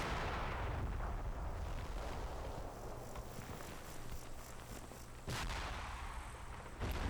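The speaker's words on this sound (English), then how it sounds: "Fire missions are going off." Artillery fire and explosions rumble through a Combat Mission: Black Sea battle, a low continuous barrage with a sharp distinct blast near the end.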